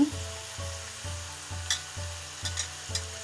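Tomato puree made from two medium tomatoes sizzles steadily in a hot pan for a mixed vegetable curry, with a soft regular pulsing and a few brief spatters near the end.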